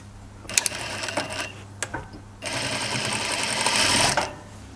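A sewing machine stitches a hoodie seam in short runs, a few quick mechanical bursts and then a longer steady whir of needle strokes close by.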